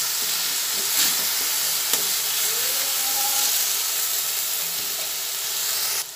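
Chicken frying in a pan with ginger paste and onion paste, giving off a steady, even sizzle and hiss with a faint clink near the end and no talking.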